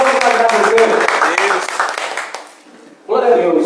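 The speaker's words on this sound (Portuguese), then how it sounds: "Aplausos a Ele." Congregation applause during a church service, a dense patter of many hands mixed with voices that fades out near the end before a single voice resumes speaking.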